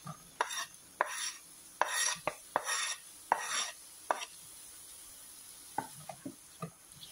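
Onion, tomato and ginger sauté in butter in a pan for chickpea kadala curry: a spatula scrapes and stirs in uneven strokes over a soft, continuous sizzle, close by with no talking.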